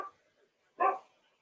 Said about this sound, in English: And dog's going mad.